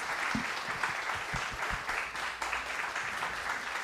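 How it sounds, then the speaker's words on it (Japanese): Audience applause at a regional revitalization symposium in Japan, a steady wash of clapping from a sizable crowd that holds evenly throughout, fairly close and moderately loud with no talk over it. "今一度大きな拍手でお送りください"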